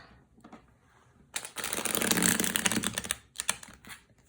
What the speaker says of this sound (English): you can get a really nice rifle shuffle after trimming